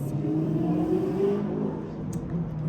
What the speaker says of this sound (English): there was a loud car. I don't know if you can hear that.